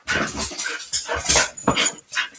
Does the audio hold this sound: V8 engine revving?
no